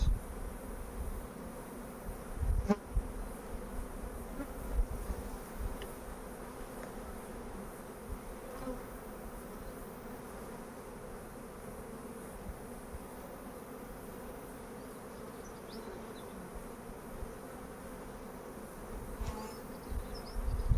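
Honeybees hum continuously from an open hive during a colony inspection, a steady close drone with a brief knock or bump early on and no talking.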